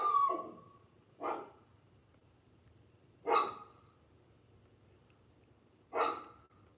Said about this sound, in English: You've let the dog outside, it goes bananas.